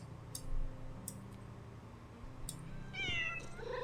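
Cartoon cat meows in the Calico quilting video game, a short high mewing call near the end over a low steady music bed, with faint clicky interface ticks earlier.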